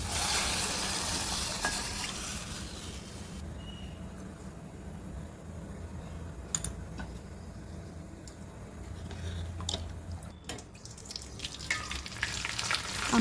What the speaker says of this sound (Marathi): हा थोडंसं परतून घ्यायचं आहे चांगलं त्याला तेल सुटलं की